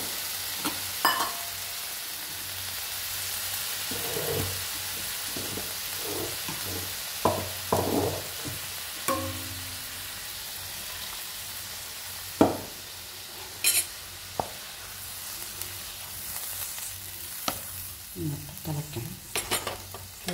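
Shallot theeyal curry with roasted ground coconut bubbling in a pan, with intermittent stirring scrapes and soft knocks of a spoon against the pan over a steady low simmering hiss; no talking.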